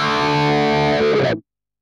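A heavily distorted electric guitar chord through an overdrive pedal effect rings out thick and buzzy, then cuts off abruptly after about a second and a half, leaving silence.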